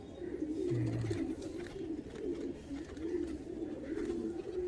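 Andhra high-flying pigeons coo in a loft, a run of rolling low calls repeating one after another up close over a faint background hum.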